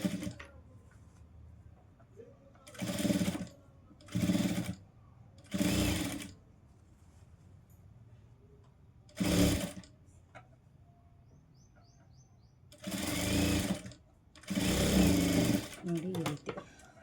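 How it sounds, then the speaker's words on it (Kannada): A sewing machine stitches the sleeves of a readymade top in several short, loud bursts separated by pauses, close by, with a voice talking quietly between runs and faint bird chirps in the background. "ನೋಡಿ ಈ ರೀತಿ ಮೊದಲು ಸೆಂಟ್ರಿಂದನೇ ಒಂದು ಕಡೆಯಿಂದ ಸ್ಟಿಚ್ ಮಾಡ್ಕೊಂಡು ಹೋಗಿ"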